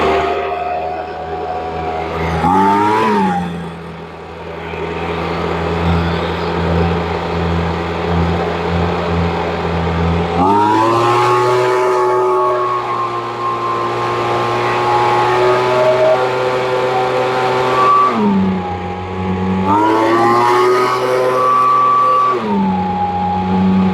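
A small Ryobi gas engine, long unused, runs and revs loudly up close, its buzzing tone climbing and falling through several throttle bursts with steady idling between.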